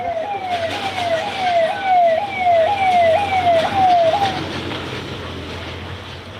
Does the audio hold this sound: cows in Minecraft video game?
no